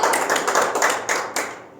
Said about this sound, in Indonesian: Beri tepuk tangan untuk Ananda Vibrantio.